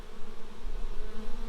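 Honeybees buzz continuously during a warm-weather hive inspection, a dense close-up drone with a steady hum and shifting pitch, heard alone without talk.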